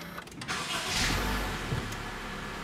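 A 2021 Honda City Hatchback RS engine starting by push button, heard from inside the car: a short starter whir followed by the engine catching and settling into a quiet, smooth idle.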